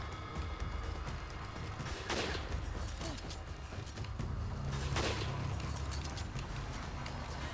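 Bursts of gunfire from the video game Resident Evil 5, a couple of sharp shots standing out over a continuous rumbling, clattering game soundscape, fairly quiet.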